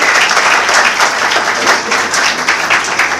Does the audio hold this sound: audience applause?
yes